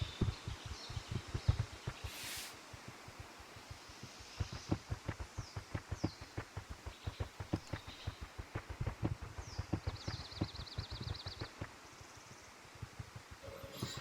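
Heavy animal footsteps in theHunter: Call of the Wild, a fairly regular series of thudding steps close by, some louder than others, with faint bird calls in the background and no talk.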